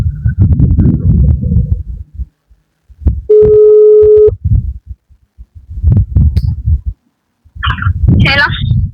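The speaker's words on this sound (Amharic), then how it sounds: "ስልኳ እየጠራ ነው እንግዲህ እየጠራ ነው።" A mobile phone rings with one steady electronic tone lasting about a second, set between stretches of nearby talk; people speak before and after the ring.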